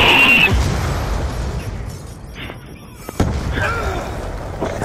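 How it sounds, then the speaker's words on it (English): A Hellstorm missile strike in a multiplayer shooter game lands with a loud, heavy boom that rumbles and fades, followed by a smaller thud and lingering crackling debris. "Hellstorm missile inbound."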